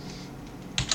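Commands are typed on a computer keyboard in a Linux terminal: a quiet run of soft keystrokes, then a quick burst of sharper clicks at the end.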